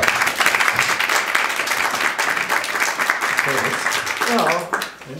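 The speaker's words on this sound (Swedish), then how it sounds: "Inte alltid man blir applåder när man går upp sig" Audience applause at a World Art Day cultural-policy talk as a state secretary takes the stage: steady, dense clapping filling the room for about four seconds, then tapering off while a voice begins to speak over it.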